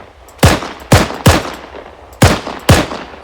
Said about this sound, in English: Here we have the G43.